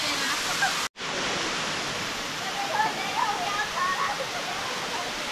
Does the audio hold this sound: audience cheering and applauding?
no